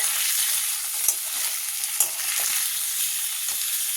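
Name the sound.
paneer frying lightly in oil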